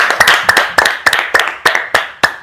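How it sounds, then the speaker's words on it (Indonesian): A small classroom group gives a round of clapping, eight or nine sharp, evenly spaced hand claps in a quick steady rhythm, close and loud with no talk. "Kita berikan tepuk tangan buat Agria."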